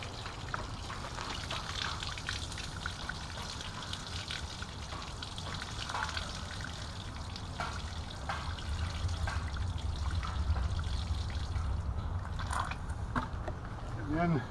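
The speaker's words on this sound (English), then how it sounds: "we'll dump this water from the tank" Water is dumped from a pond tank during pond cleaning, pouring and splashing steadily for a long stretch, a continuous close gushing trickle with faint background noise.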